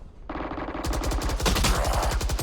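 Automatic weapon spraying in the Valorant video game during a league match, a rapid continuous burst of loud gunshots rising in intensity over a couple of seconds, with no voices.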